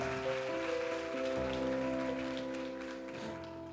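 Church congregation applauding, a dense patter of clapping layered over sustained organ or keyboard chords, steady and moderately loud.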